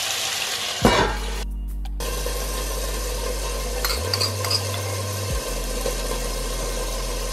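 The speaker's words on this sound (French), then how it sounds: "donc j'ai mis les brochettes à cuire" Yakitori chicken skewers cooking on a grill give a steady, close sizzle with scraping and stirring noises, a brief sharp knock near the start and a low mechanical hum running underneath.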